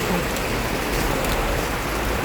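Steady rain pours down onto nearby surfaces, a dense and continuous close hiss of drops with no talking.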